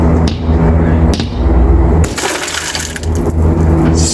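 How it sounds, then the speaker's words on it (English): A metal punch hammer strikes a car window, an Audi's glass, with sharp cracking impacts and a burst of shattering and tinkling glass midway, loud and close with clattering afterward. "So I've got me a metal punch hammer. See if a very fine point will impact it."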